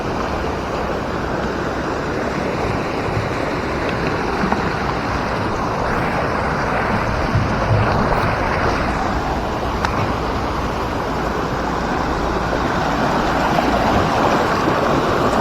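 The Lembah Anai waterfall pours in a steady, dense roar of rushing water that fills the whole clip, loud and close with a constant hiss and no pauses.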